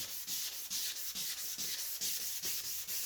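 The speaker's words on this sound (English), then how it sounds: "We're going to change the direction of how we're sanding the headlight down." Steady rhythmic wet sanding of a plastic car headlight, quick back-and-forth strokes rubbing against the hard surface, close and continuous with no voices.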